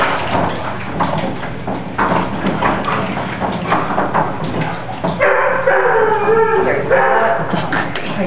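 Farm dog indoors giving a few scattered barks and a whimpering, howl-like whine toward the end, heard over a steady electrical hum with room noise around it.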